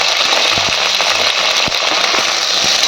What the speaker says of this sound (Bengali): আমি প্রথমেই ঢ্যাঁড়সটা দেবো ঢ্যাঁড়সটা দিয়ে ভেজে নেবো আমি হালকা করে